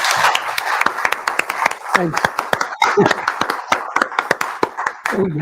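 Audience applause following a humanities lecture, steady clapping from a crowd running through the clip, with a speaker's voice thanking the audience over it.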